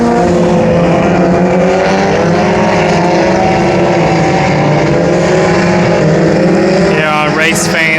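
Hornets-class race cars roar through a heat race at Brownstown Speedway, a dense continuous wall of engine drone from several cars, loud and near, with a higher whine of passing engines rising toward the end.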